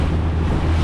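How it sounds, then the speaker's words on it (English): Strong wind of about 15 to 20 knots roars across open Gulf water near an island on the Gulf Coast, a steady loud buffeting rush on the microphone with wave wash underneath and no voices. "Wind is blowing probably 15 to 20 knots."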